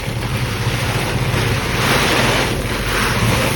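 Strong wind blows outdoors, buffeting the microphone in a continuous loud roar that swells slightly at times, with no voices.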